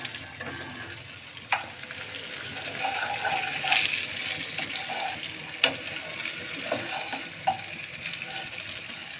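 Raw green mango pieces go into hot oil already tempered with whole spices and a slit chili, for a sweet Kashmiri-style pickle; a soft steady sizzle runs throughout, broken by a few sharp clinks and splashes.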